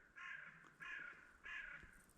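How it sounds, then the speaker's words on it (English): A hooded crow gives three harsh, evenly spaced caws in a still, windless dawn by the cliffs, with no other sound around them. "There's a hooded crow calling."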